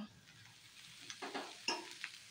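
Soybean chunks sizzling and being stirred in a pan, a faint steady fry with a few scraping stir sounds, quiet and close with no talk.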